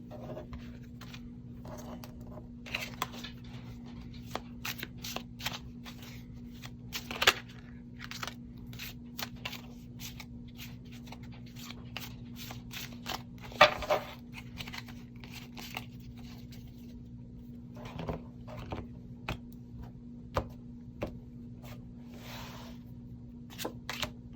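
Tarot cards riffle and slap in repeated bursts of soft shuffling over a faint steady hum, close and quiet, with brief pauses between.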